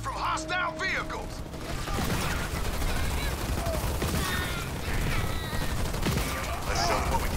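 Gunfire aimed at marines in the video game Halo Wars 2, a continuous clatter of shots and mechanical battle noise with voices speaking over the combat.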